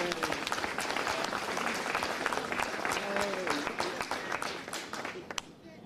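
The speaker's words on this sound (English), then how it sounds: "Let's applaud that." An audience at the opening of the new PATCO Franklin Square station in Philadelphia claps in a scattered, moderately distant round, sharp individual claps over murmuring and some talk, tapering off at the end.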